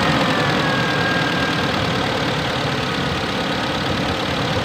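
Mitsubishi Adventure with a 4G63 engine idles steadily after starting, a constant close mechanical rumble with a faint whine on top and no voices.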